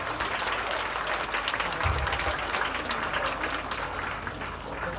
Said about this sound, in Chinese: 值得大家的掌声啊